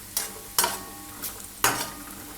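A metal spoon scrapes and stirs cashews roasting in a pan, giving four sharp scraping strokes spaced unevenly over a faint background sizzle.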